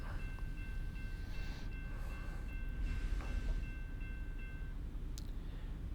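A long freight train with a mix of different cars passing in American Truck Simulator: a steady, distant rolling rumble with a faint sustained tonal whine, fairly quiet and with no talking.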